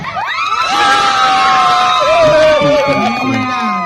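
A large crowd at a lively group game cheers and shouts with rising whoops and high yells, a loud continuous roar close by for a few seconds.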